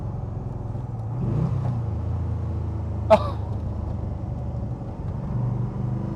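A stock De Tomaso Pantera engine drones steadily on the move, a low continuous rumble that swells a little as it's pushed through the gears, with a brief sharp click partway through.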